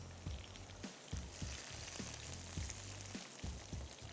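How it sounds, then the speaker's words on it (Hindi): Hot tempering (tadka) poured onto kadhi in a kitchen, giving a steady dense sizzle and crackle with small popping bursts throughout, close and continuous. "और ये तड़का आ गया हमारे यहाँ कड़ी पे"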